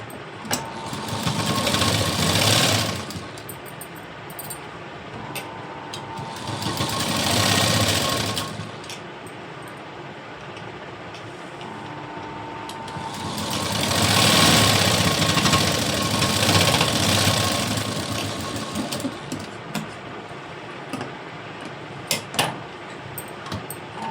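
Three separate runs of a sewing machine stitching the fitting of a blouse, each a few seconds of close, loud mechanical whirring, with quieter pauses and small clicks between them and no talking.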